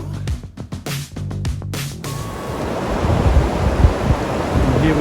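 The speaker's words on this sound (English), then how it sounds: "Continental Rapids Flash Waterfall on the Gila River" Gila River rapids and a flash waterfall rush with a loud, continuous roar of churning water. A few seconds of music come first, then the broad noise of the water fills everything.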